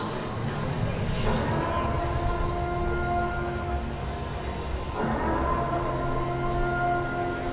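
The emergency broadcast siren from The Purge sounds as a sustained, steady wailing tone over a low rumbling background. It is moderately loud and continuous, with faint indistinct sound mixed beneath it.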